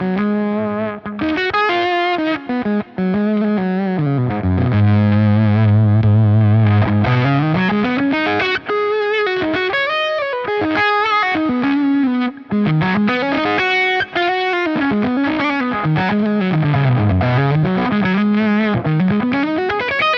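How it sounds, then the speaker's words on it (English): Electric guitar runs through a Cornerstone Nero fuzz pedal stacked with a Gladio, giving a thick, smooth saturated tone with sustained bends and melodic runs, loud and continuous for about twenty seconds with no talking. "if you're looking for more kind of edgy fuzz tones, I guess this is kind of taken the edges off of that fuzz by stacking that Gladio after it"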